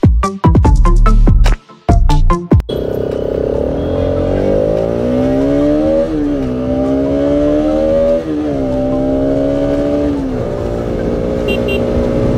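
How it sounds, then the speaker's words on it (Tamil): A Bajaj RS 200cc motorcycle, 2021 BS6 model, accelerates hard with the throttle held open: a few sharp blips give way to a loud, close engine note climbing steadily through the gears with brief dips at each shift. "ஸ்டார்டிங்லேருந்து அந்த த்ராட்டில் அப்படியே பிடிச்சிங்கன்னா வண்டி அப்படியே போயிடுது"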